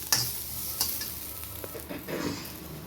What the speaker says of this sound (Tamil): தேங்காய் சிம்மில் வச்சுட்டு வத்தா போதும்